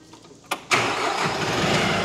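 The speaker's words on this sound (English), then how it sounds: "I'm gonna fire the thing up and let you see these blades spin." A tractor engine set up to run a Lane Shark mower cranks with a couple of brief bursts, then catches and settles into a loud, steady idle up close.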